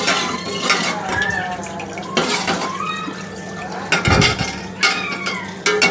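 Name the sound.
stirring millet health mix in a pot on the stove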